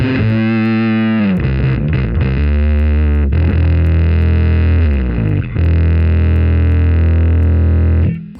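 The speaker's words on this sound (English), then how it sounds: "Get some over the top distortion happening." Electric bass played through a Line 6 Helix Mandarin 200 amp model with heavy, over-the-top distortion: thick sustained chords with a few quick note changes, loud and dense, ending on a long held tone that cuts off.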